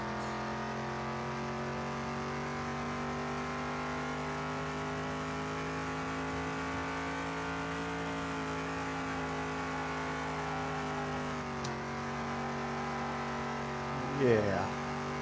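A worn car engine in Car Mechanic Simulator 2021 drones steadily while driving, holding a constant hum with slight pitch shifts, and a voice talks briefly near the end.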